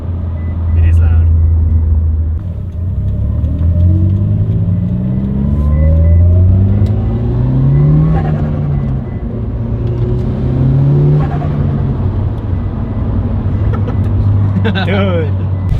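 Subaru STI with a newly installed blow-off valve, engine revving up and settling back repeatedly with a deep rumbling exhaust, loud and close, while people talk over it.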